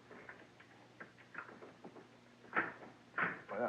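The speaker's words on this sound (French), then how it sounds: "je ferme la petite porte." A small plastic door on an awning housing being shut by hand, a few soft taps and fumbling clicks followed by two or three sharper snaps near the end, close and quiet with no speech.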